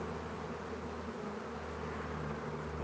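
Honeybees droning in a continuous, even hum close by during an open hive inspection, steady and moderately quiet with no voices.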